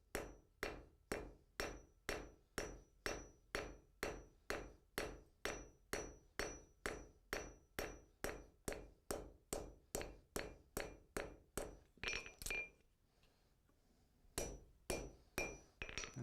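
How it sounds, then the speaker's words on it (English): Steady, evenly spaced hammer blows ring out close and loud as a blacksmith shapes a horse head's mane in hot steel with the peen, with a short pause near the end before the strikes resume. "Using the peen of the hammer,"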